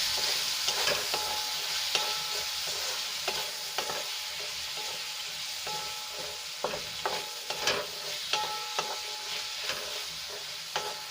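A masala of chilli and garam masala powder sautés in a hot pan, with a steady close sizzle broken by scraping, tapping stirs of a spoon, and no talking.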